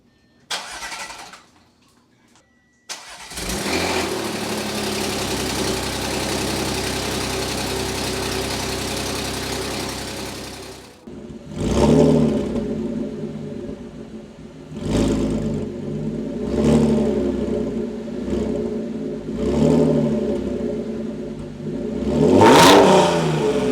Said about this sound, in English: This car has been running for quite a long time and it sounds so incredibly good.